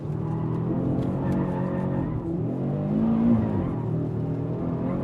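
An Audi RS3 engine roars steadily at high revs while its tires squeal in a rear-drive-style mode, a loud sustained drone with a brief rising squeal partway through.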